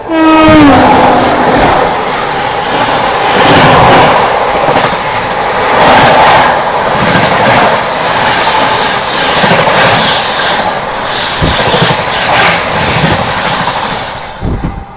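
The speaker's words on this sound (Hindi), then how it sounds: "यहाँ पर आ रही है भाई 12424 नई दिल्ली डिब्रूगढ़ टाउन राजधानी एक्सप्रेस 130 पर।" The 12424 New Delhi–Dibrugarh Town Rajdhani Express rushes past at about 130 km/h. A horn blast opens, then a loud, close roar of wheels and wagons holds throughout, with rhythmic clatter near the end.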